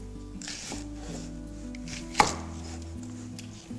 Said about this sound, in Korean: 양파를 썰겠습니다